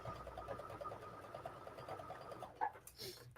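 Sewing machine stitching patchwork of scraps and old blue jeans, a quiet rapid steady whirring hum, ending with a few louder clicks.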